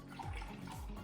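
Hot milk mixed with honey being poured, a short continuous liquid stream with gurgling, close and fairly quiet, no talk.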